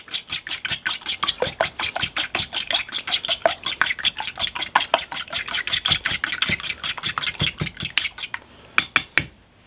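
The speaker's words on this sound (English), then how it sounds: "egg. And whisking it up." An egg is whisked briskly in a bowl for oyster batter, a fast, even run of sharp clicking strokes close by, continuing for several seconds before a few slower final taps.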